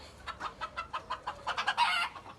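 Hen clucking close by in a farmyard coop, a rapid run of short rhythmic clucks that build into a louder, more agitated burst at the end.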